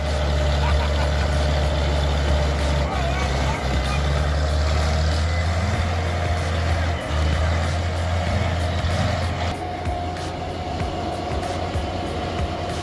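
A tractor straining in deep mud to drag a wood trailer lowered onto the ground produces a loud, sustained low engine drone with steady harmonic hum and scattered clanks and creaks, running heavy and unbroken throughout.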